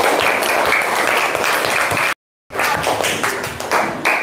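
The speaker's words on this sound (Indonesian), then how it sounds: "Tepuk tangan buat semuanya." A class of children in a classroom claps together in sustained, busy applause that is fairly loud and close. It cuts out briefly, then resumes just as steadily.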